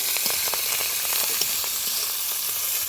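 Cut potatoes, eggplant, thankuni and gima greens hiss and crackle steadily in hot oil with cumin and five-spice tempering, a loud, continuous close sizzle with fine popping throughout.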